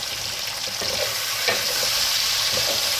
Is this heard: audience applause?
no